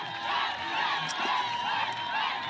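A roadside crowd at the UCI cycling world championship road race in Kigali, Rwanda, cheers and shouts from a distance, a fairly faint, steady roar with a few whoops rising above it.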